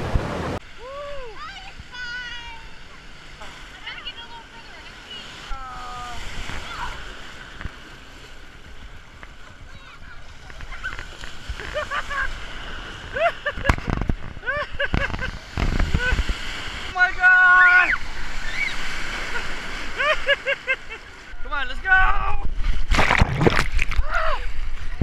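Swimmers splash around in cold ocean water at the beach, the intermittent watery splashes sitting beneath nearly constant talking and excited voices.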